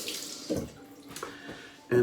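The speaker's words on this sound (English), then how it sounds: "put some water on my face" Water splashed onto a face at a sink before a wet shave with mentholated shaving soap, heard as a few short close splashes and trickles, with a louder splash at the end.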